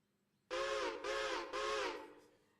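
Train whistle in a video game, three loud sustained blasts in quick succession, the last fading out, with no talk over it.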